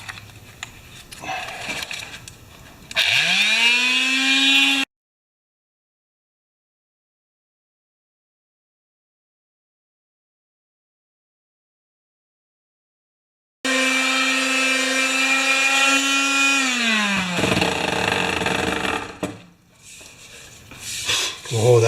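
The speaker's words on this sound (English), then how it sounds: "this is actually a very gentle type of a sander" A gentle sander fitted with 80-grit sandpaper, running in two close, steady bursts of whirring and rubbing on either side of a long silent gap, with talking before and after.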